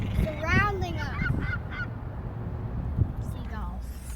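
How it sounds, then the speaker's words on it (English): Gulls calling in a flock surround the listener with several harsh, honking cries early on, fading into a steady outdoor wash, while a person talks faintly underneath. "We are surrounded by gulls."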